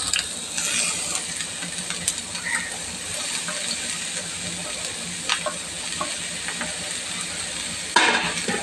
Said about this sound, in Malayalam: നമ്മുടെ എണ്ണ ചൂടായിട്ടുണ്ട് നമുക്കിനി നമ്മുടെ സവാളയൊക്കെ അതിലേക്കിട്ട് കൊടുക്കാം